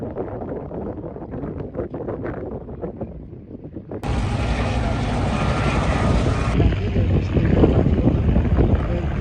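An Ercoupe light aircraft sits on the ground while wind and rumble are heard. Its engine then kicks in abruptly and runs as a loud, steady propeller drone close by.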